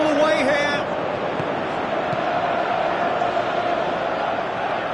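Stadium crowd in the football video game PES 2017, a steady broad roar of many fans filling the whole stretch, loud and continuous, with a brief voice over it at the very start.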